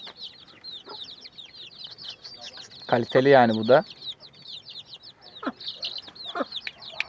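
Aseel chickens and chicks in a breeding yard, soft repeated clucks and chirps throughout with one louder squawking call in the middle, close by, someone speaking briefly over them.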